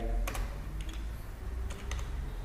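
Computer keyboard typing: a few quick clusters of crisp key clicks at close range over a steady low room hum, with no talking.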